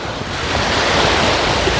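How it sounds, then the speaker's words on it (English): Atlantic Ocean surf washing onto a beach with a steady, full roar and some wind buffeting the microphone, loud and continuous throughout with no voices. "Nothing compares to the sea, which we call the Atlantic Ocean."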